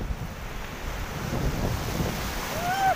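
Sea waves surge up the sand at Murudeshwar beach in a continuous churning roar, swelling slightly toward the end, with wind buffeting the microphone.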